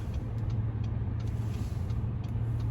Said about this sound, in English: Man, there's a lot of traffic.